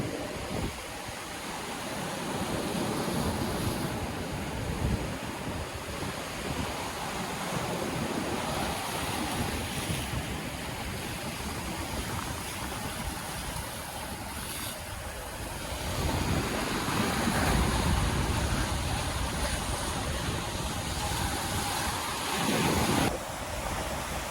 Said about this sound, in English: it is very dangerous and it's really rough seas in this area